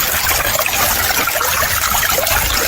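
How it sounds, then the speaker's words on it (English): Loud, steady rush of river water around someone seated in the stream washing material through a gold sluice, with a continuous trickling, splashing texture and no talk. "Good thing about having waders is you can sit in the river and run your material."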